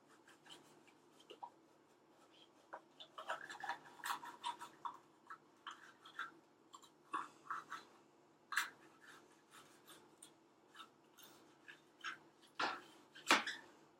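A knife chops vegetables on a board, quiet irregular taps and scrapes close by in a home kitchen, with no talking.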